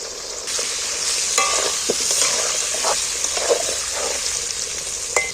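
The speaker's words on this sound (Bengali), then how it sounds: "আমি আলুটাকে একটু লাল লাল করে ভেজে নেব" Potato pieces dusted with turmeric fry in a pan while being stirred, giving a steady, close sizzle with a few brief scrapes and clinks of the utensil against the pan.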